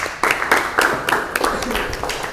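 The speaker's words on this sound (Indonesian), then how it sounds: "Tepuk tangan untuk Mas Anas" A classroom of vocational students claps for their classmate Anas, a burst of applause that starts abruptly and carries on steadily, fairly close and dense, with a voice mixed in.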